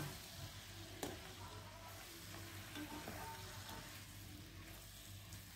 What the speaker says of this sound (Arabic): انا هفضل اقلب فيها واشوحها لغاية ما تدي لون ذهبي ذهبي كده